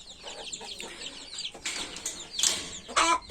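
Several chickens cluck inside a farm coop, their short overlapping calls mixed with bursts of wing flapping and scuffling near the end, close and moderately loud.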